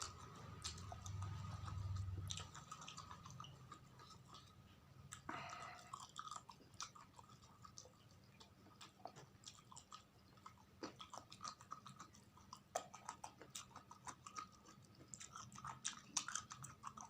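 Raw petai beans being chewed close up, soft wet crunches and bites in an irregular rhythm, faint and intimate against a quiet room, with no talking.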